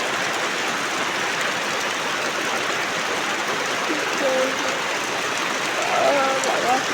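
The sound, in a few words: heavy rain falling through the night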